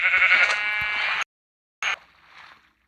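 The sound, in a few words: sheep bleating in a video game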